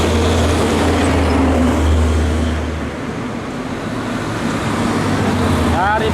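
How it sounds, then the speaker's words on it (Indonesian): A Hino box truck overtakes on a downhill bend through the Baluran forest, a heavy, continuous traffic rumble with a low engine drone fading slightly midway, close and loud throughout. "belakang kembali Hino Box juga mencoba untuk overtake"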